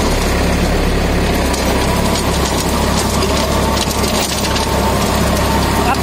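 A tractor-driven rotavator, converted from 1000 rpm to 540 rpm, runs with the tractor in low second gear: a loud, constant mechanical clatter and drone with a steady engine rumble beneath, close and uninterrupted.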